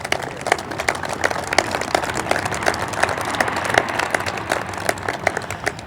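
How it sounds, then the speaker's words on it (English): Audience applause following a port announcement, many people clapping steadily and fairly loudly, with individual claps standing out throughout. "So I think they really do deserve a big round of applause and a big thank you from all of us."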